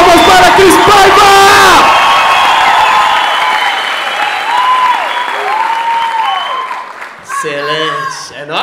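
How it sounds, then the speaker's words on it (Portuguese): A comedy-show audience bursts into loud applause with whoops and cheers for a stand-up guest. The clapping dies away after a couple of seconds, leaving shouted voices and a host talking. "Mais palmas pra Cris Paiva, senhoras e senhores!"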